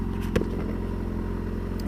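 A Yamaha FZ6 600 motorcycle riding through Sheffield, its engine holding a steady, close droning hum with a brief knock partway through, and no talking.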